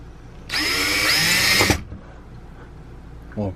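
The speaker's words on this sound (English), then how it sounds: "Hopefully I won't drill into anything disastrous." Power drill boring a pilot hole through an RV roof: a loud, steady high whine for about a second, then stopping abruptly, followed by quiet background.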